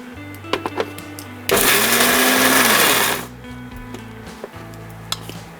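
A grinder crushing dry fruits, cashews and raisins, a loud whirring burst of under two seconds between quiet stretches with a few clicks and knocks.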